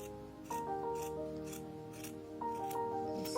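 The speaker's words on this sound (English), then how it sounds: "I'm just gonna trim the hair so that it looks neat" Scissors snipping the yarn hair of an amigurumi doll, a series of soft, close cuts in an irregular rhythm over faint tonal background noise.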